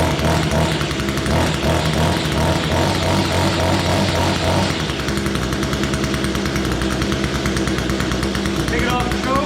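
An Echo string trimmer with a newly installed carburetor runs after a cold start, its small two-stroke engine buzzing steadily and loudly close by throughout, the tone shifting partway through as it settles into idle.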